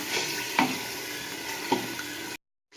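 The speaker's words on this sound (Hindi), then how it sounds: "और इसको अब हम अच्छी तरह भूनेंगे अदरक लहसुन के साथ और प्याज के साथ" Chicken frying with ginger, garlic and onion in a pan for murgh channay, a steady broadband sizzle broken by a couple of sharp stirring scrapes, close and moderately loud, ending abruptly in silence.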